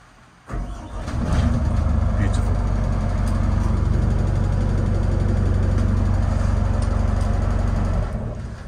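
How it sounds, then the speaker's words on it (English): A 2006 Jeanneau Merry Fisher 925 boat engine turns over and catches first time, then settles into a steady, loud idling rumble that continues to the end. "look how beautifully the engine just starts up"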